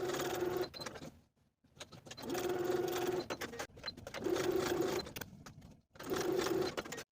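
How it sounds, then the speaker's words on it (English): A sewing machine stitches fleece fabric at standard stitch length, running in four steady whirring bursts separated by brief pauses, close and clear with no talking. "I'm going to sew along these stitching lines with a standard stitch length."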